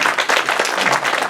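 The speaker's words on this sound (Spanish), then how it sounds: "Un aplauso." Applause in a church congregation after a prayer, a short steady burst of many hands clapping at full strength throughout.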